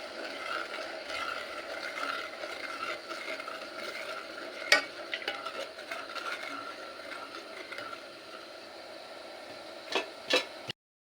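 Jelly mixture being stirred in a pan for a lab-e-shireen dessert, a steady scraping and swirling texture that runs continuously, with a couple of sharper clinks of the utensil against the pan.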